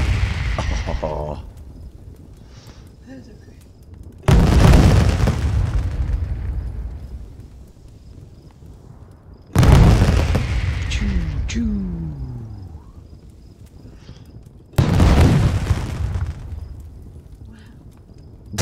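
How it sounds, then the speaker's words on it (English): Three big fireworks booms in the Creativerse video game, each a loud sudden blast that fades slowly into crackle. The three bursts are spaced about five seconds apart, with quiet gaps and faint sounds between them. "That's such a sky full of fireworks, isn't it?"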